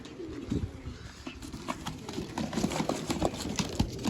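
Soft pigeon coos repeat among scattered bird calls, with rustling and light knocking in a busy, close background.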